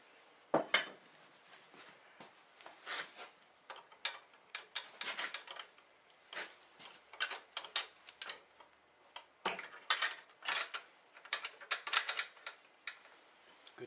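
Loosening the angle drive on a 1984 Nighthawk S engine: scattered metallic clicks and ratcheting taps from hand tools working on the motorcycle engine, in irregular bursts across the stretch, close by and without speech.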